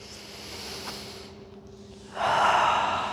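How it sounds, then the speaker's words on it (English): During a seated stretch, a person takes a deep breath, starting as a soft, drawn-out breathy hiss and swelling into a louder, rushing inhale near the end, close and clear with no talking. "Big breath in."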